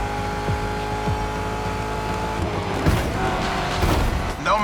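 A muscle car engine roars continuously in a racing video game, a loud, close, steady rumble with rising revs and shifting tone toward the end.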